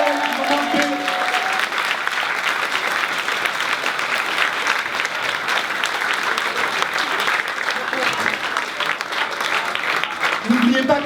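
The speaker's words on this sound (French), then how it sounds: "On peut les applaudir bien fort" An audience at a nighttime cabaret-style show applauds loudly and continuously, a dense sustained wash of clapping with brief voices at the start and end.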